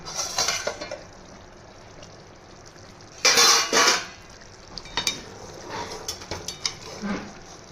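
A pot lid is lifted off egg curry and the curry is stirred, with a sharp metallic clatter in the middle, scraping and clinking of a spoon against the pot, and faint background noise throughout.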